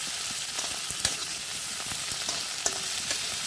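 Tomatoes hit a pan of browned onions and fry with a steady, bright sizzle, with a few light stirring taps close by.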